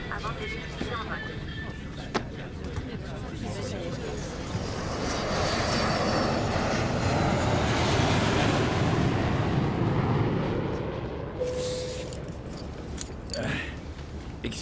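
Airliner engines roar through the cabin during takeoff, a broad steady rumble that swells to its loudest mid-clip and then eases, with a voice speaking over it and faint cabin sounds around it.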